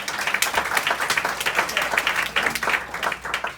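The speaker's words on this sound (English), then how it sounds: "give them a round of applause to our judges" Workshop audience gives a short round of applause for the judges, with many hands clapping in a quick, rippling patter at moderate loudness.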